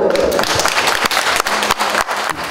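Wedding guests give a sustained round of applause, dense clapping from many hands that stays loud and continuous throughout, with some voices mixed into the crowd noise.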